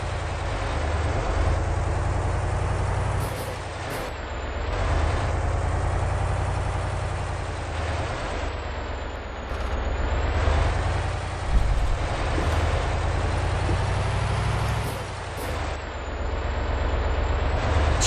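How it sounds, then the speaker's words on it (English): A truck engine idles and rumbles inside the cab in a trucking video game, a loud, low, steady drone that swells and eases a few times, with no talk. "Is that too loud, by the way, the interior engine"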